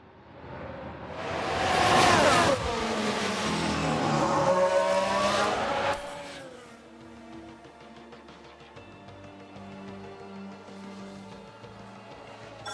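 A Formula 1 race car in the F1 Manager 2022 racing game locks its brakes and spins out: a loud, rising and falling engine whine with tire noise peaks early, then settles into a quieter, steady engine drone.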